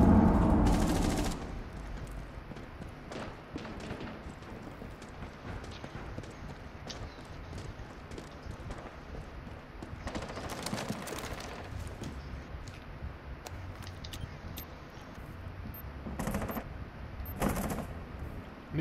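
Video game gunfire crackles in short, fairly faint bursts: one near the start, a cluster midway and more toward the end, separated by quieter stretches.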